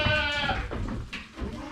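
Goats bleat on a goat and sheep farm, a loud, close, wavering cry trailing into shorter calls with faint background noise.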